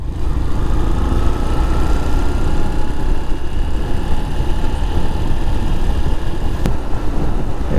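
A vehicle engine drones loudly and steadily while riding along a road between Rampurhat, Tarapith and Nalhati, a close, unbroken low roar with road rumble and no talking.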